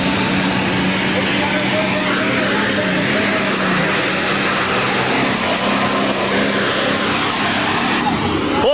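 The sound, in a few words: International super stock pulling tractor engine roaring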